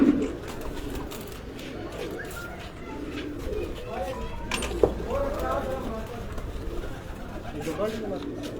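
Pigeons cooing on a rooftop loft, soft repeated low coos mingled with rustling and ambient outdoor noise, while people talk over them.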